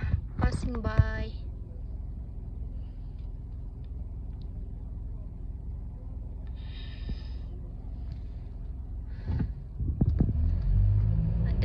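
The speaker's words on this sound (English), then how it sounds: "Couple of car passing by." Cars pass on a city street in Erie, Pennsylvania, a steady low traffic rumble running throughout, with brief louder swells as vehicles go by, and people talking faintly over it.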